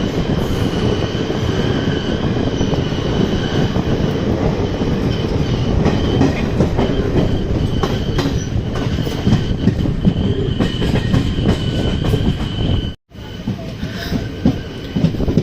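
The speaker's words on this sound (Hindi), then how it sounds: "तो फाइनली अपना जो डिपार्चर है भाई वो हो चुका है और प्लेटफॉर्म 6 शायद मेन लाइन प्लेटफॉर्म है, बहुत तेज डिपार्चर।" The Ranikhet Express pulls away fast from platform 6, a main-line platform, then runs on the rails. Dense, loud rolling rumble and rattle continue steadily throughout, with a brief dropout near the end and no talk.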